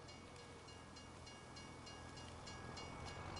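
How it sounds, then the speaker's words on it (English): A passing train in the video game Farming Simulator 25 gives a steady, broadband rumble with a faint rhythmic clatter, fairly quiet and continuous throughout, with no talking. "Wait for the train, they say."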